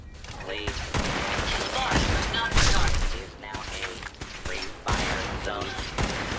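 Turret gunfire in the Fallout 4 Far Harbor video game, dense rapid bursts of shots with mechanical clatter continuing throughout at close range, with game voices and talk mixed in.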